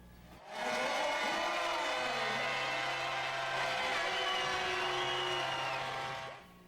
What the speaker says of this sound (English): And how about the crowd? They were into it